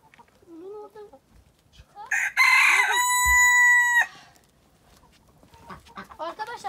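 A loud rooster crows once, a long strained call, close by, between quieter clucking and a person talking.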